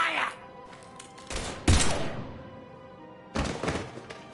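Gunfire in Mass Effect 3 combat comes as a few sharp, heavy bursts and thuds separated by quieter gaps, close and punchy, with faint game voices in between.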